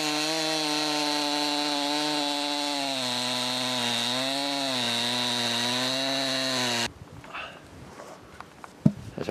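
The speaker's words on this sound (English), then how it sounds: "cut a nice, neat cylinder, a nice flat piece off using the normal chainsaw for a project we had in mind" A standard chainsaw runs at a steady, loud whine as it cuts a neat flat piece off a log, the engine pitch dipping slightly under load before stopping abruptly, followed by faint handling noises.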